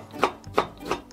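Three evenly spaced knife strokes slice through daikon radish on a cutting board, each a short crisp chop, close and fairly quiet with no talking.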